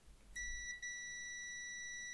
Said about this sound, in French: Je sais pas si vous entendez, mais ça fait bip, ça s'arrête et ça reprend.